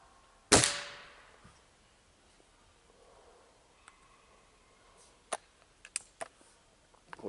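A single sharp, loud crack from a Gamo Whisper pellet gun firing a pellet, close by, followed by quiet background with a few faint clicks and taps.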